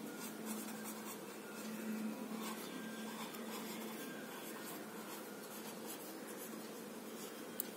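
Pen or chalk strokes scratch out numbers in a maths class on ratio and proportion, a steady, close scraping texture that runs continuously with a faint hum behind it.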